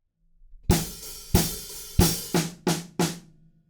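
Drum kit playing a beat from a song: six loud, crisp hits, the last ones quicker as the snare fill lands on three and four, each with a short ringing decay, close and alone.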